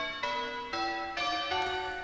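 Church bells ring in change ringing, four separate bell strokes struck in an even sequence, each with a bright metallic ring that lingers into the next, fairly faint and with no voices.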